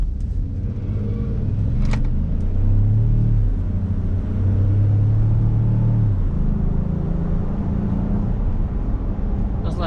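The turbocharged engine of a 2018 Ford F150 pickup truck gives a deep, steady rumble from inside the cab as it accelerates, with a low tone that rises and holds briefly.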